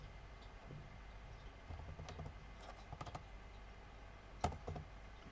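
Quiet typing on a computer keyboard while entering a command into GeoGebra, scattered light keystrokes in small clusters over a low background hiss, with no voices.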